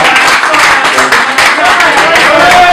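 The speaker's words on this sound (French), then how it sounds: "applaudissez Sorel qui représente Werason" Conference audience applauding as a dense, continuous wash of clapping that holds steady and loud for a few seconds.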